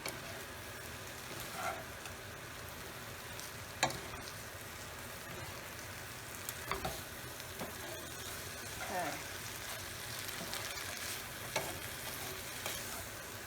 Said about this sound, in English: Let's just mix it in some more.